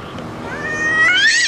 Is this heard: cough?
no